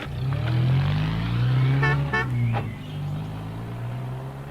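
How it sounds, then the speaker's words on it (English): A mobile shop van drives past, its engine rumbling steadily throughout while a couple of short horn toots sound in quick succession near the middle, fairly close and clear. "Sam Waldron drove through in his mobile shop, tooting his horn."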